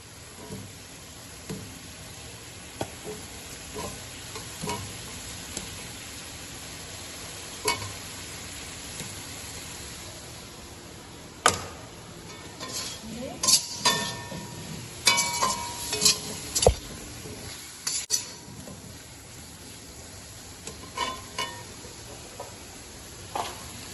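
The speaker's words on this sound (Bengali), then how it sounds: "এবার মশলাটা ভালো করে কষিয়ে নেব" Spice paste and potatoes sautéing in a pan for a spicy katla fish curry, a steady low sizzle under intermittent scraping and stirring clatters, with brief louder bursts of spatula strikes midway.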